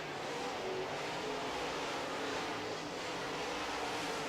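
Modified race cars circling a track during heat racing, a steady broadband roar of engines droning continuously at moderate distance with no clear passes standing out.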